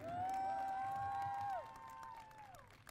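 A crowd at a statehouse rally cheers and applauds, with a long whoop over clapping that fades and thins in the second half.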